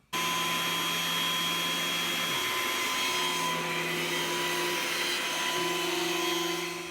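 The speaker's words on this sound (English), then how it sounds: "I'm going to give the machine another run through with that piece of scrap timber" A Hafco T-13S wood thicknesser planer, running a piece of scrap timber, starts abruptly and runs with a loud, steady whirring drone and a thin high whine, with no voices.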